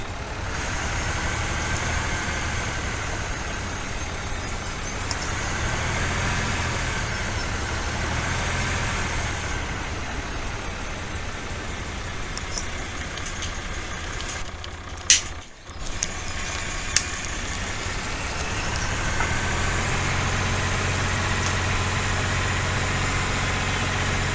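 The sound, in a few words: tractor engine driving, from video game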